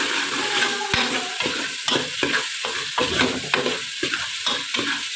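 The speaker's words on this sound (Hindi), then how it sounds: "इसको अच्छे से थोड़ा सा और सौटे करेंगे।" Green bottle gourd is sautéed with coriander powder in a pan, a loud close sizzle cut by quick rhythmic scrapes of a spatula stirring over and over.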